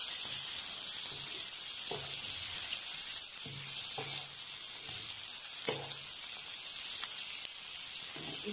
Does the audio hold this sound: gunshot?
no